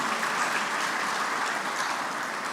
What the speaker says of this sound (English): Let's give another round of applause to our special guest of honor,